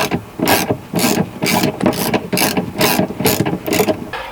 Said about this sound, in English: You've seen me undo a bolt.